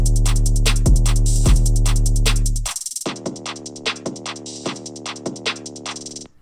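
A drum loop with booming 808 bass hits runs steadily, then high-pass and auto filters sweep the last measures, thinning the low end to bright, pulsing, filtered hits.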